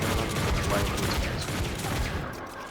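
Rapid gunfire aimed at a mimic in Fortnite: Save the World comes as a dense, rattling run of shots that clicks like a ratchet, fairly quiet and steady, and tails off near the end.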